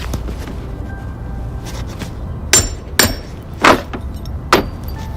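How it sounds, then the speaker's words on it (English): Four sharp, ringing hammer blows strike a nail into metal sheeting laid over rotten wood during building repairs at a campground, spaced unevenly and loud against quiet outdoor background. "You can pound on this, get a nail started in there and pound on that."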